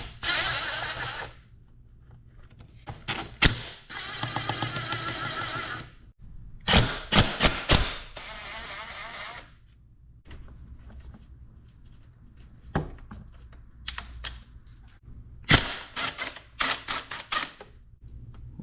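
Tools work at bolts on the front fork of a 2005 Kawasaki ZX10R motorcycle: a sequence of sharp metallic clicks and ratcheting bursts, some in rapid clusters, separated by quieter pauses, all close and without talk.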